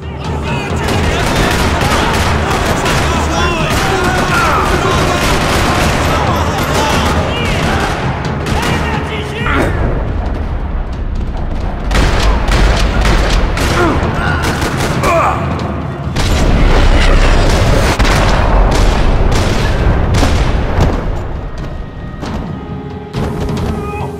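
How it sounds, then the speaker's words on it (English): Sustained bursts of gunfire in Max Payne 3 rattle almost nonstop through a parking lot, with heavy booms and thuds mixed in and brief voices underneath the loud firefight. "Another parking lot rattling with gunfire."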